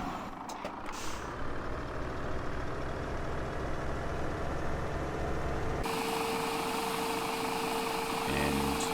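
Truck engine in Farming Simulator 17 running steadily with a low rumble, a hiss like an air brake near the end and a high beeping tone in the later part, with no talk.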